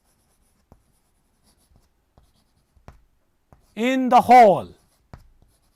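A sentence being written on a board in an English class gives faint, sparse taps and scratches spread across several seconds, with a short spoken phrase partway through.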